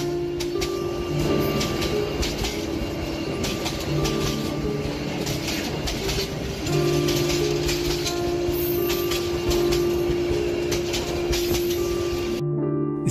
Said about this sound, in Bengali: হঠাৎ ট্রেনের পোপো শব্দে আমি উঠে দাঁড়ালাম।